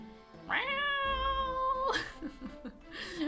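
A cat in The Great Ace Attorney 2: Resolve gives one long, drawn-out meow, followed by short vocal chatter sounds.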